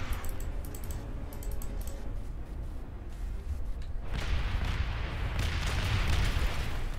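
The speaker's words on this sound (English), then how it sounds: "That air support is fantastic." Air support strike in Aliens: Dark Descent: dense, sustained rumbling barrage that swells louder and brighter partway through, with crackling impacts and continuous blasts.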